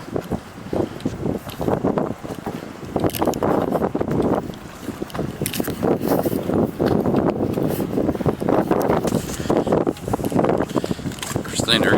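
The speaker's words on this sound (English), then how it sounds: "We got something like a 30 knot wind blowing out here" Strong gusts of around 30 knots buffet a wharf where boats are tied up, a continuous loud roar of wind noise with rattling and knocking bursts throughout, and a voice briefly audible beneath it.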